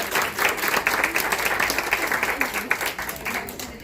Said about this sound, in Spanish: recibamos fuertes aplausos a nuestro invitado